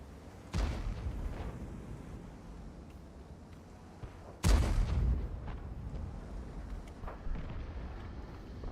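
Two heavy tank cannon booms from the Object 279 in a video game, one early and a louder one midway, each with a rumbling tail over steady game background noise.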